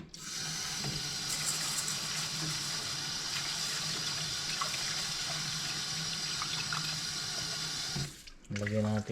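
Rice is washed under a steadily running kitchen tap, with water pouring continuously into a sink for about eight seconds before a brief clatter and splash at the end.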